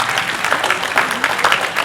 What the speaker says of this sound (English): A bigger round of applause for this